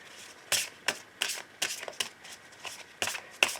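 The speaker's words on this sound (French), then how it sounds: "je vais commencer mon tirage avec l'oracle Aloha pour prendre un message pour vous ce soir" Oracle cards shuffled by hand for a card reading, a run of crisp riffling bursts at a steady rhythm, close and fairly quiet, with no talk.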